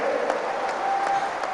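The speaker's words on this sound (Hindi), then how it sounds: "जोर से तालियों के साथ मेरी इस बात को स्वीकार कीजिए आप।" Steady, sustained applause from a crowd at a political rally in India about demonetisation, dense clapping filling the whole moment at a moderate distance with a few louder claps poking through.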